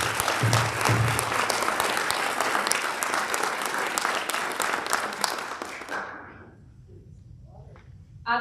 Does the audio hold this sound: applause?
yes